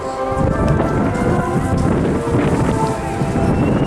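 Avro Lancaster bomber in flight at an airshow, a loud, steady low engine roar with rumbling, wind-buffeted texture that continues without a break and swamps everything else.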